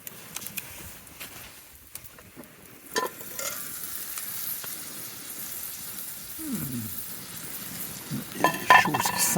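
Heart, thigh and liver cooking over an outdoor survival fire, a soft continuous sizzle and crackle with occasional handling and clatter nearby.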